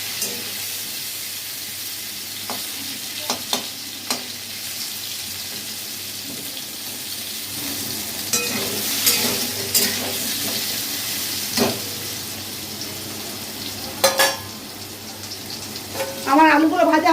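Potatoes frying in oil for a vegetarian aloo dum, a soft continuous sizzle close by with occasional clicks and utensil taps and a brief burst of spattering near the end.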